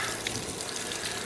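A river flows through a cave at Phong Nha in Vietnam, a steady close rush of moving water with no speech.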